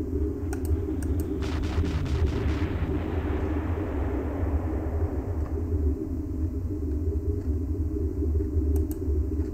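Bombing explosion in the Panzer Corps war strategy game: a rumbling blast with crackling bursts in the first few seconds, settling into a sustained low, loud roar that lingers to the end.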